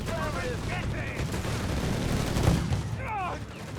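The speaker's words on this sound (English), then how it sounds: "Rifleman being shredded beneath countless MP40 shots here." MP40 submachine guns firing in the Company of Heroes 3 battle, a dense rattle of bursts mixed with distant booms, heard under a commentator's voice.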